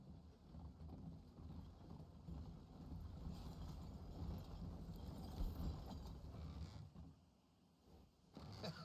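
Horse hooves clip-clop at a steady trot in Red Dead Redemption 2, a soft continuous patter under low wind-like rumble, with no talk over it.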